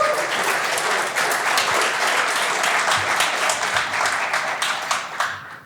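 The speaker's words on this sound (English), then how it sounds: "Please give a round of applause" A conference audience at a DjangoCon Europe talk applauds, a dense wash of many hands clapping at once that holds steady and loud for several seconds before tapering off at the end.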